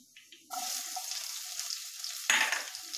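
Onion goes into hot oil with curry leaves nearby. After a quiet start a sudden loud sizzle bursts up and holds steady, then flares again later as the pan is stirred.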